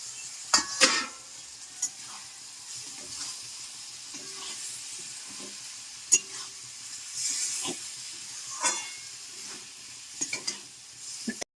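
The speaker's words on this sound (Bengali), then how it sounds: "পনিরটা আমি মশলার সাথে কষিয়ে নেব" Paneer cubes sautéed with spices in oil in a pan for a vegetarian aloo paneer dish: soft steady sizzling under repeated sharp scrapes and knocks of a spatula stirring against the pan.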